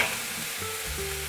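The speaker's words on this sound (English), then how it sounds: "Stir fry until it's fragrant." Pork is stir-fried in a hot wok, producing a steady, dense sizzle with a low humming tone underneath and no talking.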